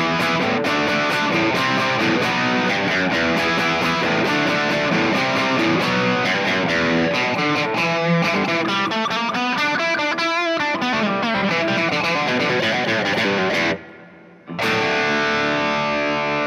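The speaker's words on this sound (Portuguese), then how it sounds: "Vamos ver um pouquinho de distorção?" Telecaster electric guitar fitted with P90 pickups, bridge pickup selected, playing a loud, sustained distorted riff of chords and notes continuously, with a brief dropout near the end before playing resumes.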